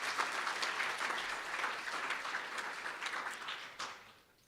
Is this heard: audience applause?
yes